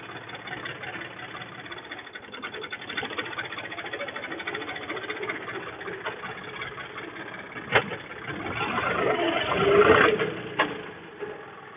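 A Deutz-Fahr Agromaxx 50E tractor engine chugs steadily at idle, then revs louder with a rising rumble near the end, heard up close.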